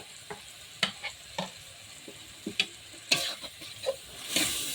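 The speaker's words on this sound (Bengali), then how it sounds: "নেড়ে দেবো।" A spoon scrapes and clinks irregularly in a pot of khichuri as turmeric, salt and Kashmiri chili powder are stirred in, with a soft sizzle beneath the close, sharp strokes.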